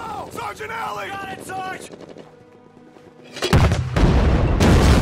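Mortar fire in a wartime combat scene, with a loud sustained barrage of explosive blasts and rumbling booms erupting in the second half after quieter sound and voices earlier on.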